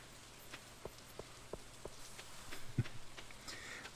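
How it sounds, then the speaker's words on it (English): Rain ambience in the farming game Stardew Valley: faint steady patter with soft scattered drips and light taps, quiet and continuous, no voices. "I really like the ambiance of the rain in this game."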